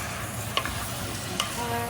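Chicken pieces stir-fry with ginger and shallots in a hot pan, a steady close sizzle broken by two quick scrapes of the utensil.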